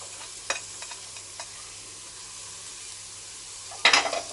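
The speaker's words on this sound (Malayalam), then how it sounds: "ഇതെല്ലാം ചേർത്ത് നന്നായി വഴറ്റാം." Chopped green chilli and carrot sautéing for fried rice, a low steady sizzle broken by a few scraping stirs and a louder clatter of utensil against pan near the end.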